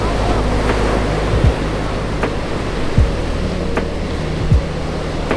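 Ocean waves wash onto the volcanic black-sand shore of Socorro Beach on Tenerife in a steady broad roar, with wind buffeting the microphone and a few louder surges breaking through.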